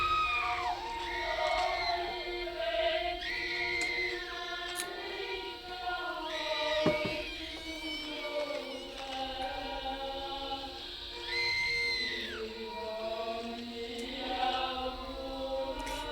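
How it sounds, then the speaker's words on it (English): Layered screaming and wailing voices in a body horror video game, several tonal cries rising and falling and overlapping one another in a continuous, moderately loud chorus with sharp upward swoops. "These are different screams than what we heard at the beginning."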